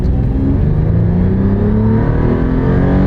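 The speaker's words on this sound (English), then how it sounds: "Smooth acceleration, smooth shifting." Body-on-frame vehicle accelerating smoothly from inside the cabin, a steady loud engine drone with gradual rise and no gear-change breaks, continuous throughout with no talking.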